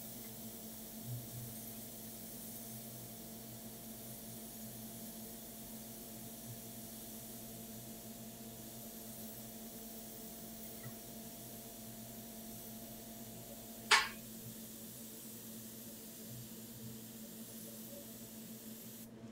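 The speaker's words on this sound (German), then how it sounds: "Ich sprühe einfach im Nichts rum." An airbrush sprays paint in a long, faint, even hiss while a blue skull design is painted, with one brief louder burst of air near the end.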